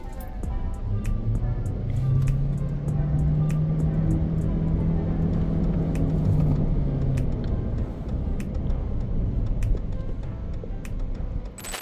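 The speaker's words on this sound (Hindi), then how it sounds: "अभी इस गाड़ी का stand still say 0 to 100 check करते हैं" A brand-new, modified BYD Shark 6 2026 pickup pulls away hard from a standstill, its drive note swelling and rising in pitch over several seconds before settling, heard from inside the cabin with faint clicks and no talk.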